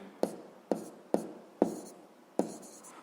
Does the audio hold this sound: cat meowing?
no